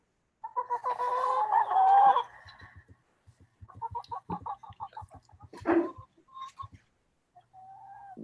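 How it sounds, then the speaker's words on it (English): Chickens fill an office, a close flock clucking and squawking in bursts with low rhythmic pecking sounds between calls, one loud rooster-like squawk rising midway. "Would you care to tell me why my office is filled with chickens?"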